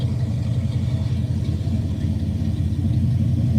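A car engine running in a garage after about ten years of sitting, holding a steady, low, rumbling idle close by with no talking.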